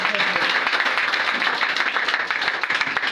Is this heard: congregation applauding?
yes